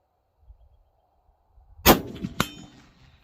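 A Savage Impulse rifle fires once at 100 yards, a sharp loud crack, followed about half a second later by the clear metallic clang of a steel target being hit, then a short fading ring.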